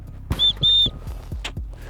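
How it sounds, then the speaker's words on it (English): A small whistle built into a backpack's chest strap gives two short, shrill blasts in quick succession, with faint background noise and light thumps around them. "on most backpacks on the chest strap, you're gonna have a little whistle, and that works really, really well"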